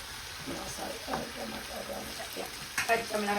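Ginger garlic paste frying in a pan for a Sri Lankan Tamil-style prawn curry, a close steady sizzle with stirring scrapes, and a voice talking over it.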